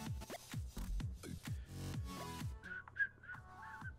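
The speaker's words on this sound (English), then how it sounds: "Sorry to whistle in your ear." A person whistles a few short rising and falling notes near the end, after a stretch of thumping shuffles and low noise during a FIFA 19 Ultimate Team pack-opening session.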